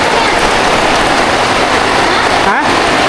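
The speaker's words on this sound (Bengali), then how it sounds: "এই যে রাতের বেলা হঠাৎ করে বৃষ্টি" Rain comes down suddenly at night, a dense and loud hiss of drops on surfaces that holds steady throughout, with a brief dip near the end.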